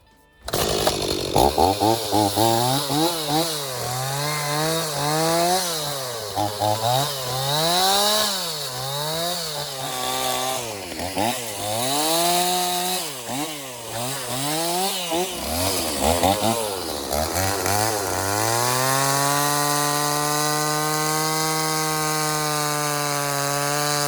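A chainsaw roars loud and close, its engine pitch rising and falling as it bites through wood, then settling into a steady high whine near the end.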